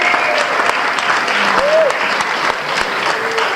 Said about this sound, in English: One more round of applause for our 4 storytellers this morning.